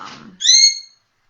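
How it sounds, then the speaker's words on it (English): A pet bird gives a single bright, whistled call indoors, loud and close, following a moment of soft talk before falling silent. "the bird has to have her opinions known"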